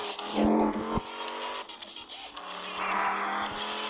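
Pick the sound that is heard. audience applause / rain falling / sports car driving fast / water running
sports car driving fast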